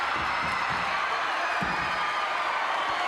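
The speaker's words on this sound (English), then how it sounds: "this capacity crowd is cheering as never before" A capacity arena crowd at a WWF wrestling show roaring for Paul Orndorff, a dense, continuous wall of cheering and whoops heard at a distance with no pauses.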